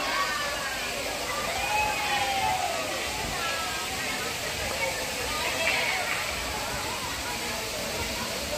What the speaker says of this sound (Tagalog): Dinig na dinig ang lagaslas ng tubig